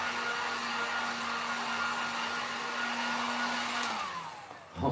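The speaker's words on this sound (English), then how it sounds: "Because the heat gun's really hot." A heat gun blows hot air onto an epoxy resin countertop in a van build, giving a steady, loud whooshing hum that dies away near the end.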